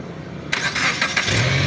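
Car engine starting after a repair: a quiet lead-in, then a crank that catches at about the half-second mark and settles into a close, steady running engine.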